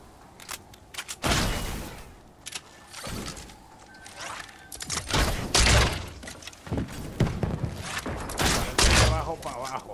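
Fortnite gunfire crackles in bursts of sharp shots and thuds among game mechanical sounds, loud and intermittent, while players talk over the action.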